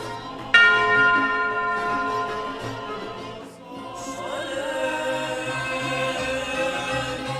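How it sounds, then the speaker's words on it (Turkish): Church bells ringing from the historic churches of Sur, including the ancient Syriac Church of the Virgin Mary, a loud bell strike followed by overlapping tolls and a long ringing decay, with more strikes after a brief lull. "Süryani'nin kadim Meryem Ana Kilisesi'nden yükselen çan sesleri"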